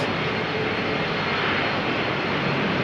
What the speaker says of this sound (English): Departures now take place from the runway that is crossing it.